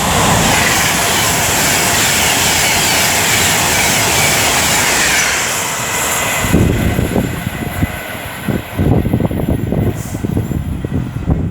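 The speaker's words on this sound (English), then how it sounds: "this is 390-118 for Avanti West Coast, working 1 Sierra 52 from London to Glasgow." Avanti West Coast Class 390 electric train on a London to Glasgow service passes close at Rugeley Trent Valley on the West Coast Main Line: a loud, steady roar for about six seconds, then a rougher rumble with gusty bursts as it passes.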